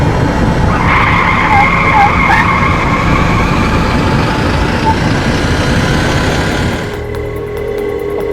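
A car skids and brakes suddenly, a long loud tyre screech over a rumbling engine that cuts off near the end, leaving a lower idling hum.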